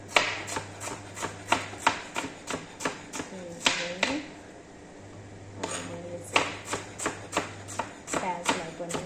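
Onion chopped on a board with a knife in a home kitchen, a fast steady run of close, sharp knocks, pausing briefly midway before resuming at the same quick rhythm.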